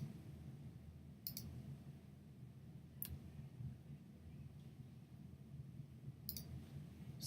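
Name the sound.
computer mouse clicking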